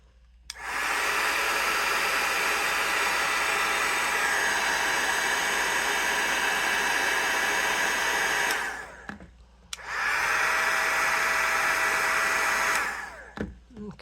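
Steady, loud whooshing roar of a heat tool melting embossing powder on golden pumpkins, running continuously for several seconds, cutting off briefly, then switching back on before stopping again.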